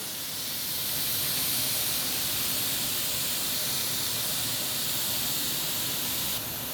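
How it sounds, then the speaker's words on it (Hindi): Steam hisses steadily from a pressure cooker of nihari after its weight is lifted. The release is a broad, continuous rush that holds fairly constant for several seconds, with no voices over it. "तो हम थोड़ा इंतज़ार करेंगे कि प्रेशर रिलीज़ हो जाए।"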